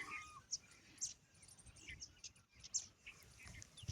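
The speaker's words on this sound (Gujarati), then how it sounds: "ચકલા ઓલે જો ક્યાં ગયા." Sparrows give sharp, short chirps scattered in an outdoor setting, several distinct calls spaced irregularly, faint and somewhat distant over a quiet low background rumble.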